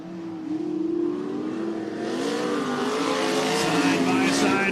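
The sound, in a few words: race cars racing at Cottage Grove Speedway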